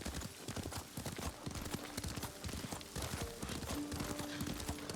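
Rapid horse hoofbeats gallop in a quick, steady rhythm in the video game Ghost of Tsushima, fairly close, with faint tonal sounds layered underneath.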